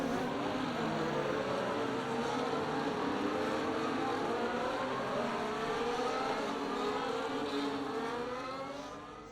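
Race cars in an F1 racing video game run in a pack behind the Aston Martin safety car at Monza, a steady droning engine roar with layered whining tones that holds for most of the stretch and fades slightly at the end.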